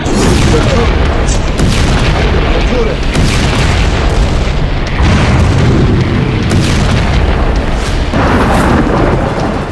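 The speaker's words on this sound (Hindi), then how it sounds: "यरूशलेम से सटे इलाकों में भीषण बमबारी हो रही है" Heavy bombing explosions near Jerusalem in the West Bank: a loud, continuous wall of booming, rumbling blasts with repeated heavier bursts throughout, dense and close with no quiet gaps.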